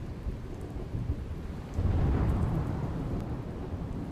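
Heavy downpour in Nadiad, Kheda, Gujarat: a dense, steady hiss of rain with a low rolling rumble of thunder swelling midway, fairly distant and without voices.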